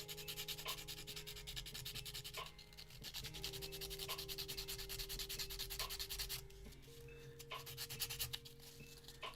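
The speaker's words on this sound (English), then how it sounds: "now I can sand this." Sandpaper rubs back and forth on a Della Duck figure kitbash, repeated scratchy strokes in a steady rhythm up close, with a few short pauses between passes and no talking.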